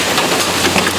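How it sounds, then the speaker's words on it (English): Rain falls steadily outdoors beside a 1996 Chevrolet Blazer being worked on, a loud, dense, continuous hiss with no distinct drops standing out and no voices. "you can tell it is raining"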